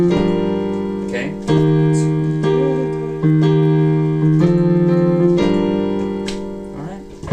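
The verse and chorus of a song are played on piano at full speed, with steady repeated chords and a melody line. The playing is close and clear, with no talking.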